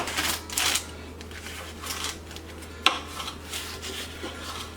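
A sharp knife cutting the end off a corn cob, rough rasping strokes through husk and stalk followed by a single sharp snap, close and fairly quiet.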